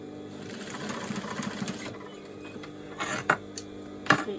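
A sewing machine runs in a short, steady burst to stitch the end of a bum bag, then stops and gives a few light clicks and clatters close by.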